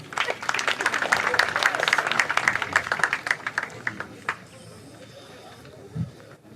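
An audience applauds the registrar at a university matriculation ceremony. Dense, sustained clapping fills roughly four seconds, then fades away into quieter room sound.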